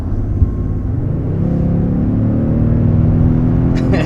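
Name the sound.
2022 Toyota Tundra accelerating, engine revving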